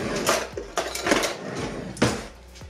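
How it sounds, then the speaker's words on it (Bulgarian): Homemade spaghetti sauce ladled into the same pot the pasta cooked in, with repeated metal ladle scrapes and clanks against the pot and wet sloshing, close and clear, with no speech. "си сипвам един черпак от соса, даже малко отгоре."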